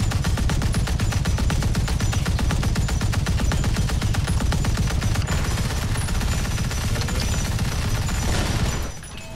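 .50 caliber gunfire in a video game, a dense, rapid, continuous stream of loud shots lasting several seconds before trailing off at the end.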